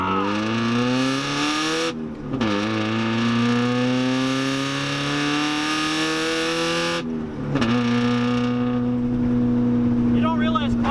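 A Mazda Miata's 1.8 engine accelerates hard through the gears, its tone rising steadily with two brief dips at the shifts, loud and close inside the car.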